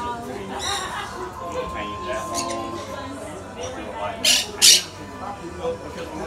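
A parrot at an outdoor flea market lets out two sharp, loud squawks close by, standing out over ongoing human talk and background crowd chatter.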